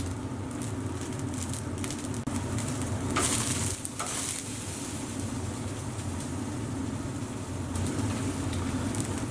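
Lamb chenjeh kebabs sizzle steadily on a grill as they are turned every half minute, a dense continuous crackle close by with a brief louder flare partway through, no talking.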